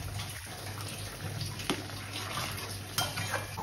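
Hilsa fish bones stirred in a cooking pot over a stove, a steady sizzle with soft scraping and occasional light clinks of a spoon against metal, under a constant low hum from a kitchen fan.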